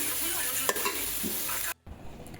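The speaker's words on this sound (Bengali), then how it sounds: "শাক ভাজিটা হয়ে গেছে, নামিয়ে নিব। এই যে দেখেন তেল বের হয়েছে।" Leafy greens frying in hot oil in a pan, a steady close sizzle with a few stirring scrapes, ending in a brief cut and quieter tail.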